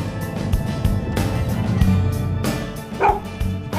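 Dogs barking in short irregular bursts with yips and some whimpering, close and fairly loud over background noise, no talk.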